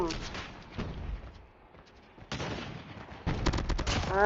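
Gunfire in the video game Call of Duty, with bursts of rapid shots alternating with quieter lulls, loudest near the end, while a voice talks over much of the action.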